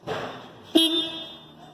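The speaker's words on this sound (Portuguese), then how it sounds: "Vamos fazer o teste na buzina elétrica." A short electric horn blast on a Volvo FM 370 truck sounds once, a steady buzzing tone that holds for about a second and then fades, following a brief thump.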